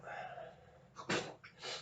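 A single quick sneeze bursts out after a soft intake of breath, close and fairly quiet, followed by a brief exhale.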